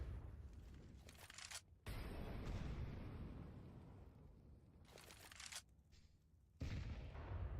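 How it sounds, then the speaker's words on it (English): A grenade going off in a Counter-Strike 2 match at a Fluxo vs BESTIA championship, heard as heavy, rumbling, booming game blasts and noise bursts, loud and dense. "Oh, nice nade there."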